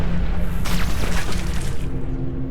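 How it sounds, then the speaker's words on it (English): An explosion in the space-combat game Everspace 2 bursts out near the middle, a loud crackling blast with shattering debris over a steady low engine hum and game soundtrack. "Some kind of an explosion there."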